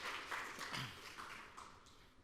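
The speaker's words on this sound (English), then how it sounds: "So, round of applause for Tom, everyone." An audience gives a round of applause for a speaker at a tech meetup, scattered claps at moderate distance that thin out and fade over a couple of seconds.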